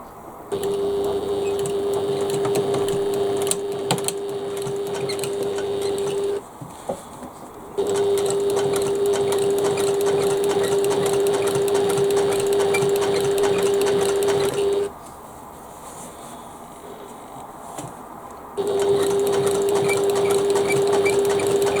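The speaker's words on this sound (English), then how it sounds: "It just makes it easier to sew these ends." A sewing machine stitching the ends of a fabric bag, running in long steady bursts with a fast whirring hum, stopping briefly between runs.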